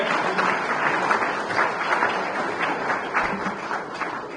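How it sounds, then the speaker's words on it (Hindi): A large audience at a Pravasi Rajasthani Diwas event gives sustained, vigorous applause, a continuous rippling roar of many hands at even loudness throughout. "एक बार जोरदार तालियों से स्वागत करें"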